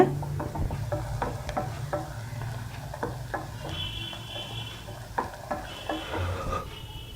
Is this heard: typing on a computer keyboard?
no